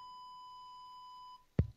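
A steady electronic beep with bright high harmonics holds for over a second, then cuts off and is followed by a short low thump, heard alone without speech.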